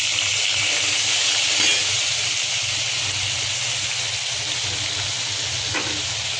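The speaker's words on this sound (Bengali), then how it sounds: "আর এখানে গরম মশলাগুলো ফ্রাই হয়ে গেছে। এখন এখানে আমি দিয়ে দিব পেঁয়াজ বাটা।" Whole spices frying in hot oil in a pan for a fish curry give a steady close sizzle and hiss, with a small splatter or two as onion paste goes in.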